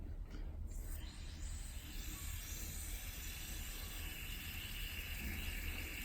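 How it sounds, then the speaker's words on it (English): A violent anodizing reaction in ocean water fizzes and hisses steadily, a faint continuous bubbling noise with no voices. "Well, that is a very violent reaction going on here."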